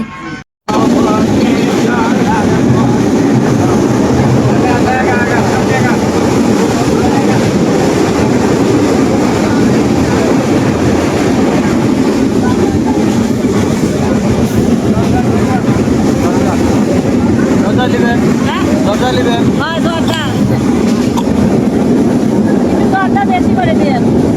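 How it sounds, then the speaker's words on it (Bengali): A steady train rumble with rhythmic clatter runs throughout, loud and close, with faint voices somewhere in the background. "এই যে ট্রেনটা আবার ছেড়ে দিছে"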